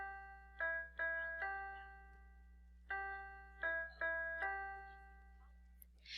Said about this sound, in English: So let's listen to it on our keyboard before we move on.